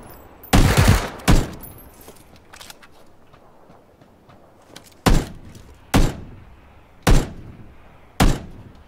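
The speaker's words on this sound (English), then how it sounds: "That guy behind the shed is shooting." Gunshots in a video game, two sharp loud reports close together, then a pause before four evenly spaced single shots ring out against a quiet background.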